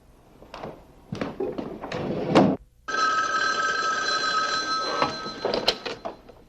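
A telephone rings in a 1970s city newsroom setting, a steady electronic ring holding for several seconds after a brief pause, preceded by scattered bumps and movement noises, fairly close and moderately loud.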